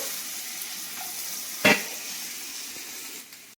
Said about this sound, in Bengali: আমি একটু ভালো করে ভেজে নিই মশলাটা